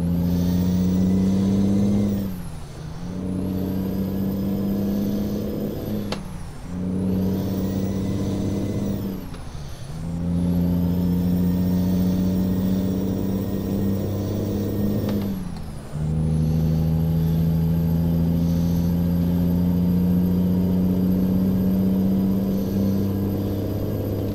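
A heavy truck engine in Euro Truck Simulator 2 drones loud and steady, dropping briefly at each gear change with an air-brake hiss before it revs back up, several shifts in a row.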